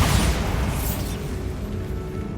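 A Bombarda explosion spell going off in the video game Hogwarts Legacy: one loud, close boom with a bright crackling burst that fades into a rumbling tail.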